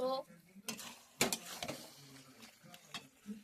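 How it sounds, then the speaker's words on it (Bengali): Meat being stirred in a cooking pot, with scattered clinks and scrapes of a utensil against the pot over a quiet background, plus a faint sizzle. "মাংস মাংস রান্না করছি।"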